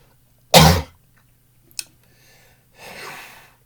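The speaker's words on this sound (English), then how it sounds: "There's a popcorn kernel in my fucking throat and I'm gonna start coughing" A loud, harsh cough from a popcorn kernel stuck in the throat bursts out close by, followed by a short sharp catch of breath and then a softer, raspy throat-clearing exhale.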